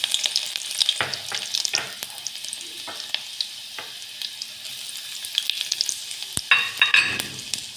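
Garlic sizzles in hot oil for a Kathiyawadi-style dahi tikhari, with a steady, close crackling fry and occasional sharp stirring clicks. No one speaks.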